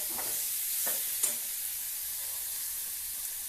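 Banana flower sizzles in spiced oil with a steady, close frying hiss and a few faint stirring scrapes early on, fairly quiet overall.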